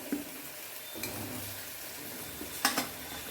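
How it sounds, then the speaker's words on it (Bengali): Potato pieces dropped into fried spice masala in a pan for a tangra fish curry, a soft sizzle under a few sharp clatters of a spoon against the pot as they are stirred. "তো মশলাটা আমার বেশ ভাজা ভাজা হয়ে গেছে, তেল ছেড়ে দিয়েছে, এখন আমি আলুগুলো দিয়ে দেবো আস্তে আস্তে।"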